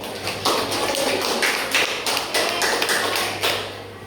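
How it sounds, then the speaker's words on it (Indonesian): A classroom audience applauds a student's presentation, with a dense, continuous patter of hand claps at moderate loudness that holds steady for about four seconds before easing slightly at the end. "berikan aplaus untuk Putri."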